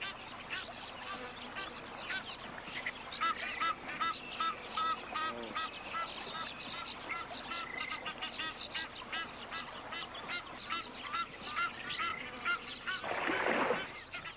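An Egyptian goose gives a long run of harsh, rhythmic honking calls, repeated many times at close range, ending in a louder burst.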